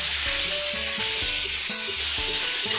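Eggs frying in oil in a wok, a steady loud sizzle that holds unbroken throughout, with faint tonal sounds underneath and no talking.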